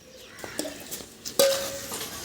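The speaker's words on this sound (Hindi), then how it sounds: "सारे में नमक मिक्स कर ले।" A metal spoon stirs black salt into a drink in a village setting, clinking against the glass or pot in several scraping taps, then one bright ringing chime that fades slowly; close and fairly loud, with no talking.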